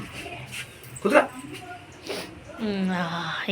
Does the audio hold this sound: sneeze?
no